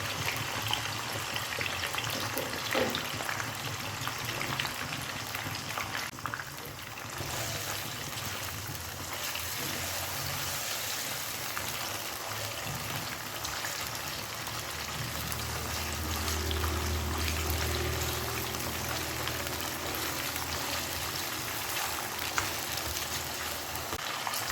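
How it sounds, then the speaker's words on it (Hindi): Chicken pieces frying in a pan with whole garam masala, a continuous crackling sizzle that stays even throughout, close and moderately loud with no voices. "अब हम इसमें चिकन डालेंगे और इसको कलर चेंज होने तक फ्राई"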